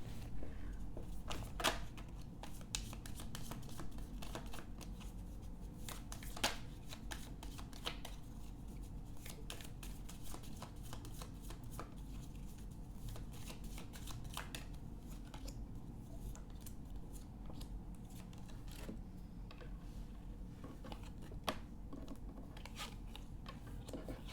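A deck of angel oracle cards is shuffled by hand close by, giving a soft, steady rustle of sliding cards with frequent light crisp snaps, continuing for over twenty seconds.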